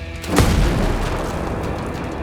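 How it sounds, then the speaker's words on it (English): A rocket explosion in the tactical shooter Ghost Recon Breakpoint lands as a single loud, close boom with a sharp onset, then a long rumbling roar that lingers and slowly fades. "we're gonna shoot him with a rocket"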